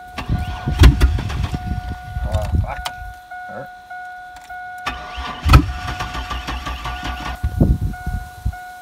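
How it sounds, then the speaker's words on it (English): A Chevrolet Blazer engine cranks and briefly catches, then dies away; it cranks and catches again, with people talking over the noise. "She started up for about a half second"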